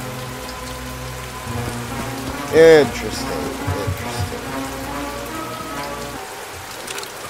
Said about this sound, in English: This rain is definitely a little bit too loud.